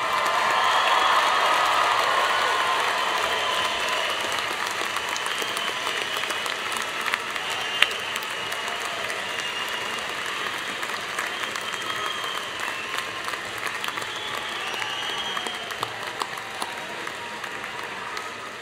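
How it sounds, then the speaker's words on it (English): Sustained applause from a large crowd honoring graduates at a university commencement ceremony, a broad, even roar of clapping that fills a spacious hall, slightly stronger at first and then holding steady for the full length. "how about one more big round of applause for all of our graduates?"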